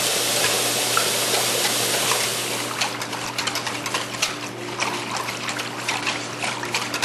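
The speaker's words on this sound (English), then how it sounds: "I'm going to add the water." Water pours into a pan of roux for chicken broth soup, a loud steady gush for about three seconds that gives way to trickling, splashing and stirring. No one speaks.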